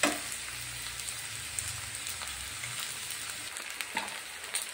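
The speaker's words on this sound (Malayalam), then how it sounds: "ചെറുതായിട്ട് ചുവന്ന് വന്നു തുടങ്ങി. ഒന്ന് വേവിക്കണം വഴുതനങ്ങ. എല്ലാം ഇതുപോലെ തിരിച്ചിട്ട് കൊടുക്കുക." Brinjal pieces roasting in a pan for chammanthi produce a soft, steady sizzle with a low hum and a few light clinks of stirring, heard close up without any talking.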